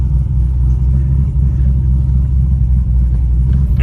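Deep, loud, lopey idle rumble from the 427 engine of a new 2024 Chevrolet Yenko Stage 3 Camaro with a 6-speed, heard close up as a steady throbbing low growl with no talking.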